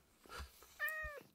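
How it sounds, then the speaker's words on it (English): A house cat gives a single clear meow, close and moderately loud, with faint low thumps around it and no speech. "Cat."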